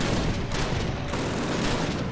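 Dense gunfire rattles without pause in the video game Call of Duty, loud and close, with bursts merging into a continuous fusillade.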